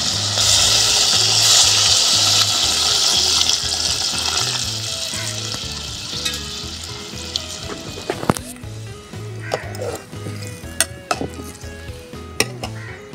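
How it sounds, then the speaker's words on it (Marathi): Water poured into a simmering Bhogi vegetable curry of brinjal and carrots sets off a loud, steady sizzling hiss for about eight seconds, followed by scattered clinks of a spoon against the pot. "आता ह्याच्यात थोडं पाणी घालूया."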